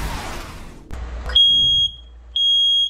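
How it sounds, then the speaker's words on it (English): Smoke detector alarm sounding two piercing high-pitched beeps, loud and close, after a brief burst of other noise. "Working smoke detectors should be on every floor and in every sleeping space."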